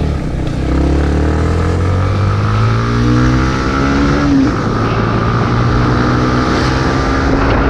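A Yamaha MT-15 motorcycle engine hums steadily and close, its pitch rising as it accelerates, then settling into a smooth, sustained drone.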